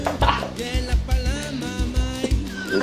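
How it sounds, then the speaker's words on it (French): A small Creole island dog from Réunion yaps in quick, close, repeated barks, several sharp bursts in a row with a brief whimpering tone between them. "Un petit chien créole."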